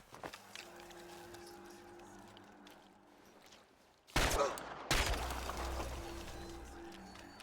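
Gunfire in the video game Chernobylite, with a couple of loud sharp bursts over quieter in-game ambience and footsteps.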